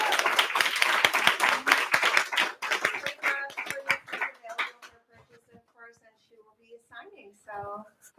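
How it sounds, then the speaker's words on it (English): Audience applause for author Courtney Press at a bookshop event, a dense burst of clapping that thins into scattered claps and fades as speech takes over near the end. "another round of applause for Courtney"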